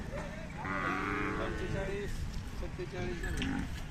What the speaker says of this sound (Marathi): खिल्लार गाय आहे.